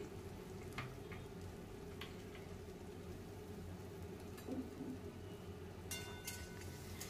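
Two medium chopped onions frying with garlic in a pan, a steady, low sizzle with faint stirring clicks and no voices.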